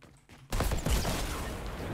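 A sudden burst of rapid gunfire in Fortnite erupts after a quiet moment, loud and dense, continuing as a sustained rattle.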